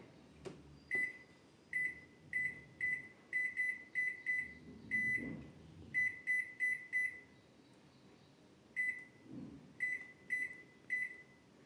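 A kitchen oven running on its cake baking setting gives off a series of short, bright electronic beeps in quick bursts of two to four, spaced across the stretch with a couple of brief pauses, fairly close and clear.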